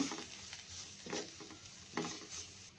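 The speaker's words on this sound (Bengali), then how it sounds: "মরিচের গুঁড়া হলুদের গুঁড়া ধনিয়ার গুঁড়া এবার ভালো করে মিশিয়ে নেব" Chili, turmeric and coriander powder being stirred into beef haleem in a pot, with rhythmic spoon scrapes rising over a quiet continuous sizzle.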